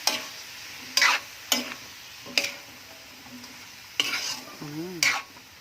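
Vegetables seasoned with salt are stirred in a hot pan, with a utensil scraping in several distinct bursts over a soft steady sizzle, close and moderately loud.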